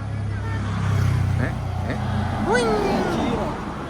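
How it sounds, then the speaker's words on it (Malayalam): A Mitsubishi Pajero passes by on a residential street, its engine rumble swelling and fading over a few seconds, with someone talking over it. "ഇതുകൊണ്ട് പറന്ന് വരുന്നൊരു കാർ കണ്ടോ?"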